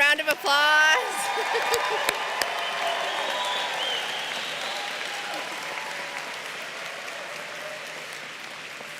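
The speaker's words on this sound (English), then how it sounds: "give them a round of applause." A large crowd at a law school commencement applauds the graduating class steadily for several seconds, loud at first and slowly fading, with a few sharp claps standing out early.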